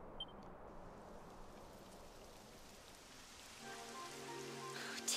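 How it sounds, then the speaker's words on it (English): Steady rainfall in Dragon Quest 11, a soft continuous hiss of falling drops, fairly quiet, with faint tonal game sounds entering near the end. "It would have to go and start raining, wouldn't it?"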